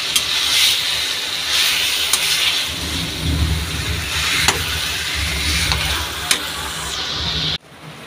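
A fish head frying in a pan in a dark kitchen, a steady loud sizzle and hiss close by with occasional stirring clatter, ending abruptly.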